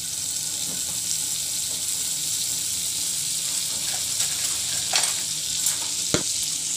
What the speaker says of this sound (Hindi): यह अमूल का स्लो गैस पे मक्खन हमारा गर्म हो गया है